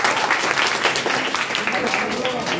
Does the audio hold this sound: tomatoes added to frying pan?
no